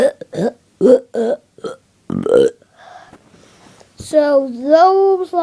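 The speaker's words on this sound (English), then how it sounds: "So, those are my burps." A young person burps repeatedly in short, choppy bursts, followed by a longer, drawn-out wavering burp at the end, close to the listener with no clear speech.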